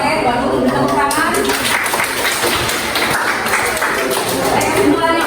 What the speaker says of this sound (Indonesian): baru tepuk tangan